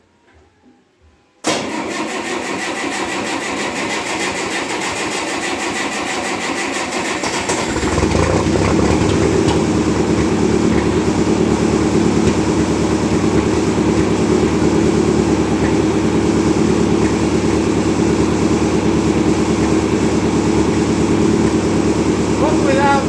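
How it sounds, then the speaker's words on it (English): A cold 1958 Oliver 550 diesel tractor engine cranks and catches abruptly after a near-silent start, then settles into a loud, rough, steady clatter that grows fuller and heavier after several seconds and keeps running close by. "It's a diesel and it's cold."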